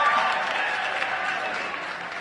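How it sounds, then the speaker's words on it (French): Men in a church audience clap together in a continuous, even wash of applause that fades slightly as it goes on. "J'ai les hommes qui donnent une bonne main d'applaudissement."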